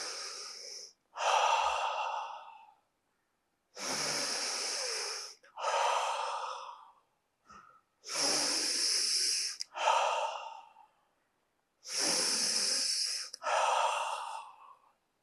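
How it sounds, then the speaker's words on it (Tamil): A person takes slow, deep breaths in through the nose and lets them out through the mouth, repeated in long, loud paired cycles separated by short silences, as a breathing exercise for calming breathlessness. "மூக்கில் ஃபுல்லாக சுவாசம் இழுத்துட்டு வாயில வெளியில் விடணும்"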